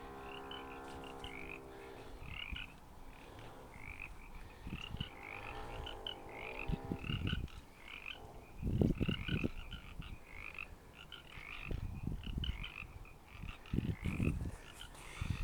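A loud outdoor chorus of Baja chorus frogs (Baja tree frogs) in a canyon open space park in San Diego, with rapid repeated croaks overlapping continuously and steadily, close and dense.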